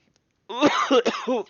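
A person coughs in a few rough, voiced bursts, close and fairly loud, after a brief quiet moment.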